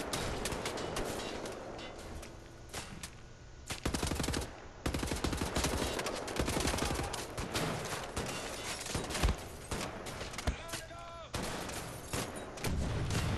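Gunfire ricochets in the shooter game Wolfenstein: The New Order, with rapid, dense bursts and sharp cracks that come in waves with short pauses, loud and close throughout.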